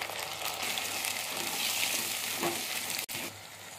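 Tomatoes and onions sauté in a pan for sardine fish curry, giving a steady, close sizzle and crackle throughout that is cut by a short break near the end. No one speaks.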